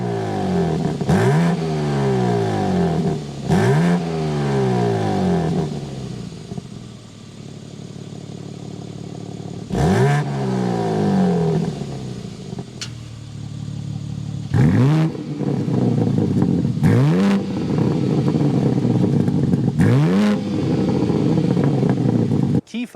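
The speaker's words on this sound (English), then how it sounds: "so you can hear that exhaust note" A 2025 BMW M3 Competition xDrive engine revs hard several times in a row, each burst rising sharply then falling back to a rumbling idle, loud and close.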